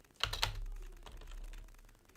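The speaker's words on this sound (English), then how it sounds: "Did I type that right?" A short burst of typing on a computer keyboard, a few crisp close key clicks followed by quiet room noise.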